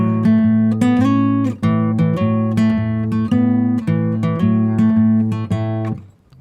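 Solo electric guitar runs through a hill-country blues answer phrase, steady picked notes over a droning bass string, ending with the strings left to ring and fade.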